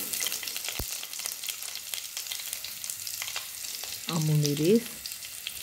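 Curry leaves, rampe, cinnamon bark and red onions sizzle steadily in hot oil, a close, continuous crackling fry, with a short spoken phrase rising over it near the end.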